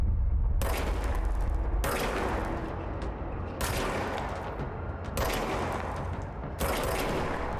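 A gun in the video game Control fires in repeated bursts, loud and close, with about five blasts each trailing into a dense rumbling decay.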